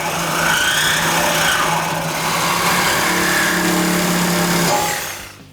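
A loud, steady reciprocating saw whine with a buzzing motor and grinding texture, cutting a 2016-2023 Camaro SS exhaust pipe for several seconds before stopping abruptly.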